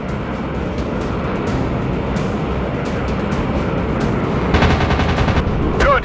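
Machine gun fire from WW2 warplanes in a video game air battle, with a continuous roar of engines and gunfire; a sharper, denser rattling burst of rapid shots breaks out near the end.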